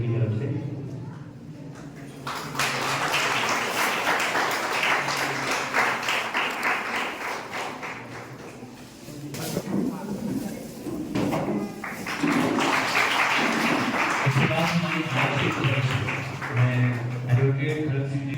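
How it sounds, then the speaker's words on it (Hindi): An audience at a ceremony in Himachal claps in two loud bursts of applause separated by a short lull, with voices heard around the clapping. "इनके लिए सर के लिए एक बार जोरदार तालियां हो जाए।"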